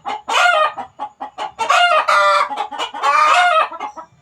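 Chickens shut in a breeding coop cluck and squawk loudly and close, in rapid overlapping bursts and calls with short gaps, with no talking.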